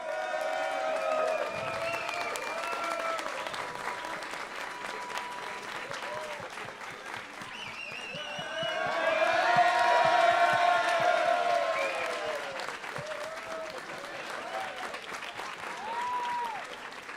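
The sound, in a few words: arena crowd applauding and cheering for champion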